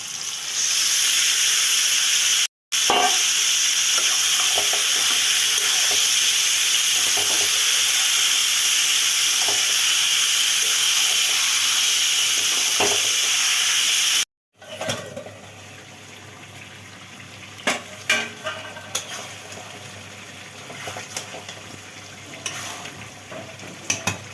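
Duck meat sizzles loudly in hot oil with onions and garam masala, a steady close frying hiss. After a brief break it drops to a quieter sizzle, broken by scraping clatters of stirring.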